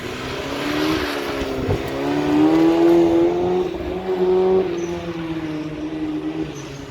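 Subaru Impreza at an Ardeer motorsport event, its engine revving and rising in pitch as the car skids, heard from a moderate distance with a harsh, windy roar in the background.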